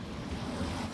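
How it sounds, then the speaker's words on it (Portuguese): Water near Mount Fuji gives a steady, low wash like waves lapping, with some wind noise across the microphone, continuous and moderately loud for the whole second. "O barulho da água."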